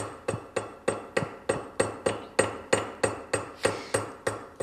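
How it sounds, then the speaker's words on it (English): A small hammer taps wire while riveting jewelry, about fourteen crisp, evenly spaced metallic strikes roughly three per second, each ringing briefly before the next, close and clear with no talking. "I'm going to use 100 little taps"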